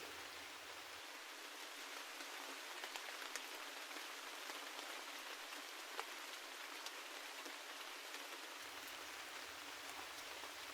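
Steady rainfall keeps up a continuous soft hiss of countless drops, unchanging and alone throughout.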